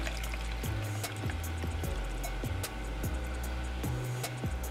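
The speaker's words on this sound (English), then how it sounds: "we're going to pour this into our cup" Turmeric tea pours through a strainer into a cup, a steady close trickle and splash of liquid running for several seconds with small gurgling surges.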